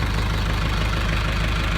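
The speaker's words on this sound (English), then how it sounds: "it got our tractor running" A John Deere 2755 tractor engine idles steadily nearby, a loud continuous low rumble with a rhythmic knocking throb and no break, heard alone without talk.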